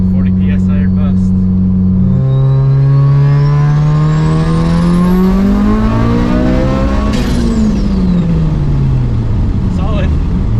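A 700 WHP Mitsubishi Evo running 40 PSI of boost roars through a hard pull, its engine pitch climbing steadily through the gears with sharp shift breaks, loud and close, with voices faintly underneath.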